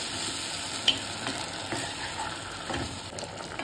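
Sauce stirred into roasted vegetables sizzling in a pan for honey chilli chicken, a loud continuous frying hiss close by with soft scraping and stirring strokes throughout.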